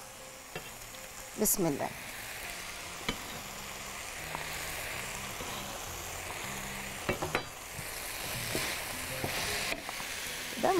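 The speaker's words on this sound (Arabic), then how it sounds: "دول كويسين ممكن يتضافوا مع الفراخ نشوحهم مع بعض" Mushrooms and chicken sauté together in a pan with a constant sizzle, broken by intermittent scraping and clinks of stirring, and a few words spoken briefly.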